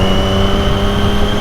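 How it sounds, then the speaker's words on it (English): Triumph Daytona 675 inline-three engine running with a steady high-pitched whine over a dense mechanical roar, close and loud throughout the brief moment, no speech. "I've really grown to love the noise this inline 3 from Triumph makes."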